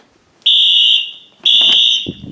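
A Wheelock fire alarm horn sounds during a system test, giving two loud, high-pitched electronic blasts of about half a second each, separated by a short gap, with a brief thump after.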